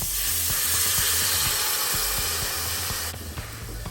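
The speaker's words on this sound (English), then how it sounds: "Alright, now the roux is darkened up a little bit. We're gonna go ahead and add the bouillon to it." Bouillon poured into a hot, darkened roux sizzles and hisses steadily and loudly close up, with a low rhythmic bubbling beneath, then eases slightly near the end.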